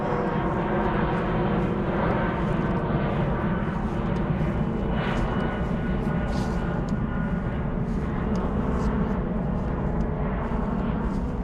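Steady, loud roar of an aircraft flying over close to an airport, a broad continuous rumble that fills the whole stretch without pause, no talk.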